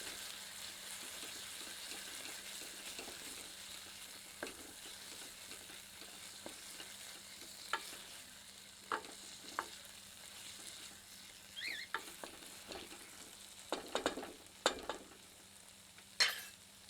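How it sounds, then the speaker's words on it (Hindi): Egg curry ingredients with stone-ground sil-batta paste are stirred in a pan, a quiet steady sizzle with soft scraping strokes and a few sharper clinks of the spoon against the pan toward the end. "अच्छे से सारी सामग्री को मिला देते हैं।"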